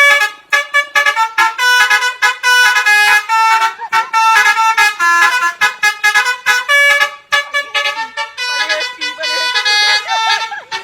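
Indonesian bus telolet horn playing long, loud melodic sequences of rapid musical toots, repeating in bursts with brief gaps between phrases.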